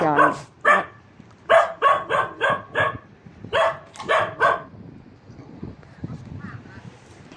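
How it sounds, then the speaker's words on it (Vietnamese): At night in a cemetery, a dog standing on a grave barks in quick bursts of several loud, close barks, separated by pauses. Quieter noise fills the gaps, and someone talks in the background. "Nó leo lên trên cái bục, nó leo lên trên cái phần mộ nó sủa luôn nè."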